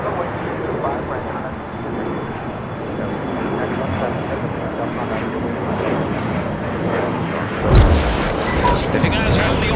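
A jet airliner departing LAX on runway 25 right, a broad, loud, continuous engine roar that builds steadily with a sharp thump near the end, radio voices heard faintly over it.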